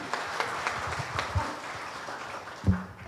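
Light, scattered audience applause at a health talk show event, soft irregular claps spread through the room, with a couple of louder thumps near the end.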